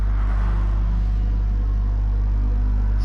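Racing cars at Monza, including a Lamborghini Huracan and a McLaren, make a loud steady low engine rumble that stays close and constant.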